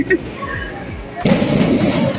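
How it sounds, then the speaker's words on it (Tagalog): Fireworks at a travel tour expo in a convention center: scattered pops and thuds, then from about 1.2 seconds a louder sustained burst of crackling bangs, heard amid crowd noise and nearby voices. "May fireworks pa"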